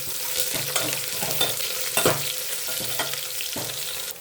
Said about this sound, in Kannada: ಕರಿಬೇವು ಹಾಕಿದ್ದೀನಿ ಮತ್ತು ಈಗ ಆವಾಗಲೇ ಸ್ವಲ್ಪ ಬೆಳ್ಳುಳ್ಳಿ ಇದು ಹಾಕ್ತೀನಿ ಇನ್ನು ಸ್ವಲ್ಪ ಚೆನ್ನಾಗಿ ಫ್ರೈ ಮಾಡ್ಕೊಬೇಕು